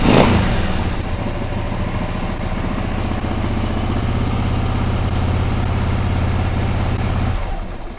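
A Yamaha V-Star 650 motorcycle idles close by with a low, even, slightly slow thumping rhythm that holds steady before cutting off near the end.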